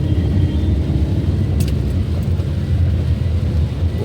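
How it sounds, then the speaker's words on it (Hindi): Road traffic stuck in a jam during heavy rain makes a loud, dense, continuous low rumble of engines and wet road noise, with a brief higher hiss partway through. "यहाँ ट्रैफिक जाम अलग।"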